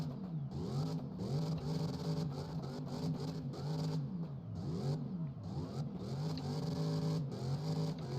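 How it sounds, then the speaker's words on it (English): A 700 hp naturally aspirated car accelerating hard, its engine note climbing repeatedly as it shifts up through the gears in steady rising sweeps, close and loud with no talk. "I'm pushing my foot down, flashing through all them gears."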